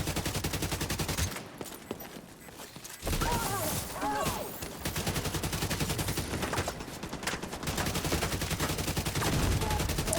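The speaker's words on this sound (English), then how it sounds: "Fire into all of them, and once everything is dead," Rapid automatic gunfire from the player's weapon in a video game, loud dense bursts that stop briefly and then resume, with a voice speaking over the shooting.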